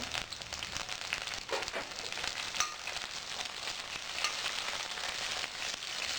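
Onions with fresh mint leaves fry in a pan, a continuous close hiss and crackle that holds steady throughout with faint stirring scrapes and no talking.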